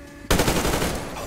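Gunfire in the video game Metro Exodus, a sudden loud burst of rapid automatic shots in a fast rattling stream, close and harsh, following a quieter lead-in with no talk.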